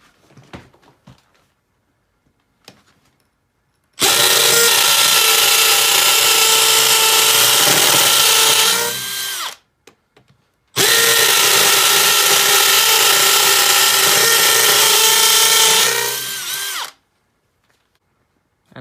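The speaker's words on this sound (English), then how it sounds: "And this is the Makita XDT 14 brushless 3-speed impact driver. And we'll be doing it on full speed." A Makita XDT14 brushless 3-speed impact driver runs at full speed driving screws in two long, loud bursts of about six seconds each, a dense rattling whine separated by a short pause, with near silence before and after.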